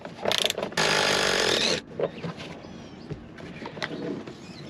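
A ratchet working a Torx head bolt on an 1989 Chevy truck door, a loud rapid buzzing ratchet run lasting about a second, followed by quieter clicks and clanks of handling.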